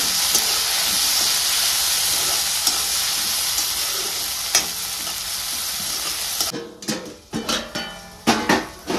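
Onion frying in a pan until reddish-golden gives a loud, steady close sizzle, then spoon stirring breaks it into uneven bursts of scraping and hissing.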